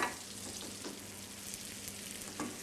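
Butter and sugar bubbling and sizzling in a pan while melting down for a butterscotch sauce to go with banana pancakes, a steady frying hiss with a few soft utensil scrapes.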